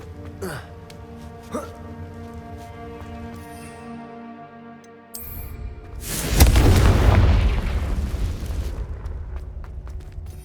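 The Confringo blasting spell goes off in the Hogwarts Legacy video game as a deep, rumbling explosion that swells loudly and lingers with crackling debris after some quieter ambient game sounds.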